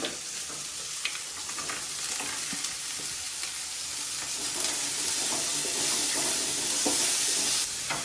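Carrot and other vegetables frying and being stirred in a pan for white sauce pasta, a steady close sizzle with scraping stirs throughout and no talk.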